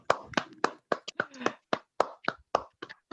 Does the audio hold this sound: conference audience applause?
yes